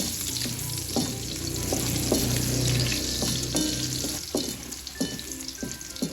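Pork sizzles steadily in a hot pan, crackling and spitting, with occasional scraping and clinks of a utensil stirring.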